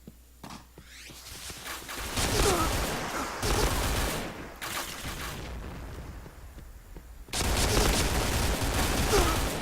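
Bursts of rapid gunfire and booming shots from the video game Point Blank, loud and close, broken by short pauses between volleys.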